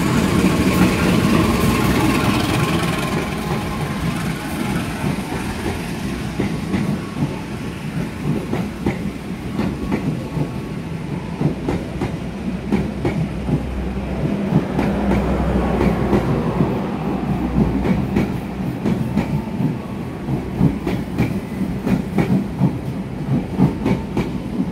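A train rolls through a busy Jakarta railway station with a sustained rumble and rhythmic clickety-clack of wheels over rail joints, moderately loud throughout.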